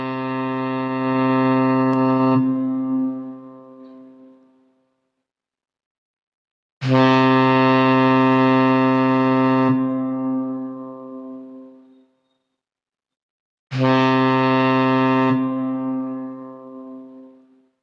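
Three long, deep ship horn blasts as a ship departs, each steady and loud for a few seconds before fading, separated by short silences.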